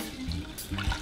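Water pours steadily from a tap or jug into a microwave-safe dish, two-thirds of a cup measured out for protein oatmeal, with a close, splashy, continuous flow and no talking.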